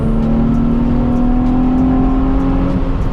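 A Nissan 350Z drives steadily down a road, its engine giving a continuous close drone that climbs gently in pitch.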